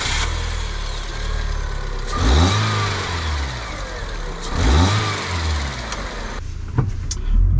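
Fiat 500C 1.2 Cabriolet, a 2015 car, with its small engine running while reversing, revving up twice in smooth swells over a steady idle, close and fairly loud, with no talk.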